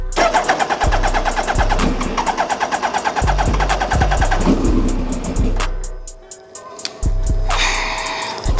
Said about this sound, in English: Should be able to crank it now and see if it stays on.